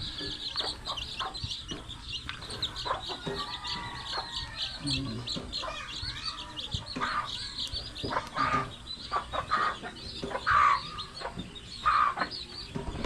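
A flock of chickens clucks and chirps nonstop at their watering spot, overlapping calls near and fairly loud, with a few sharper high notes standing out toward the end.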